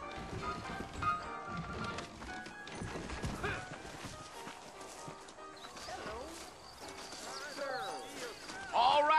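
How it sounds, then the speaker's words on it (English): Saddled horses clip-clopping in Red Dead Redemption, a steady hoof rhythm under game dialogue and ambient sound, with a brief louder burst near the end. "I got the horses saddled up and ready out front."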